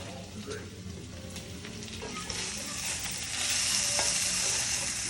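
Meat sizzles and crackles in a hot pan, a steady frying hiss that grows louder toward the end, with occasional clinks of stirring.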